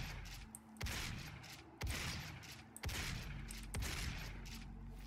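Gunfire in DOOM 2016: four heavy, evenly spaced shots roughly a second apart ring out over a constant dense game backdrop of rumble and noise, fairly loud and close, with no talking.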